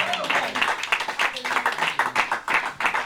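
A church congregation claps in quick, steady rhythm to acclaim the Lord, dense hand claps continuing under a voice speaking over them.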